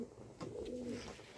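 Lakha pigeons, including large yellow and white birds, cooing at close range in soft, low, rolling calls with a brief rise and fall, with no one talking.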